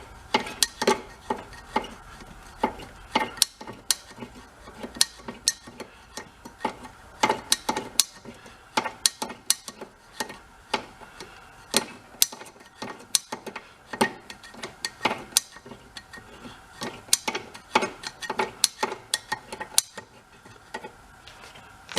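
Tightening a part on a 1961 VW Beetle by hand produces a long run of sharp, close metallic ratchet clicks in quick uneven bursts with brief pauses, no voice over them.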